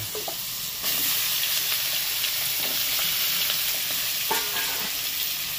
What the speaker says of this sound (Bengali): প্রথমে আলুটাকে ভেজে নিই